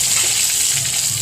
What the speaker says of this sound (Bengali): এটা হয়ে গেল মাছ ভাজাটা